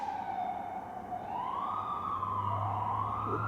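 A police siren wails outside, its rising and falling tone sweeping steadily as it passes at a moderate distance, with a low rumble of traffic underneath and no talking.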